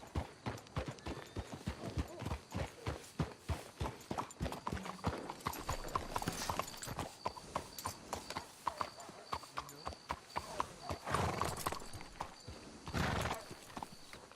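Horses in Red Dead Redemption 2 clip-clop in a steady, close rhythm of hooves, with a couple of whinnies rising above the hoofbeats near the end.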